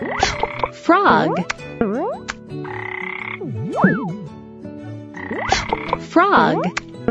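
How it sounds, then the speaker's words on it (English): Cartoonish frog croaks from a children's animal-alphabet game, swooping up and down in pitch in quick bursts, with bright chiming and playful tones mixed in; close and fairly loud, with no talking over it. "Frog."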